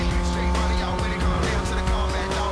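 Car drifting with tire squeal in the racing game Need for Speed Most Wanted: a steady engine drone under a broad, sustained skid noise, loud and continuous throughout.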